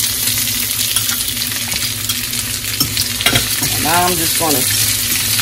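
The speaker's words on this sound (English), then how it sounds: "Now I'm gonna put a little bit of my squash and zucchini in it." Squash and zucchini stir-frying in a hot pan, giving a loud, steady sizzle with scraping and stirring clinks. Someone talks briefly over the cooking.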